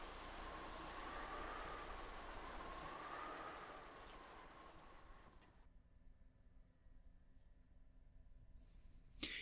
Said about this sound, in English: the sound of the wind and rain began to fill the room bit by bit